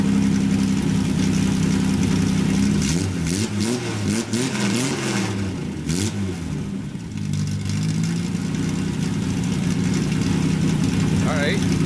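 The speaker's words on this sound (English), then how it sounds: "Now I'm gonna rev it." A Datsun 280Z engine idles loudly, then revs several times in rising and falling bursts before settling back to a steady idle, heard close up throughout.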